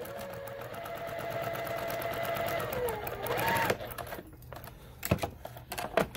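A sewing machine stitches a Galaxy Star quilt block with a steady, close mechanical whir for several seconds. It stops, leaving scattered clicks and light handling sounds.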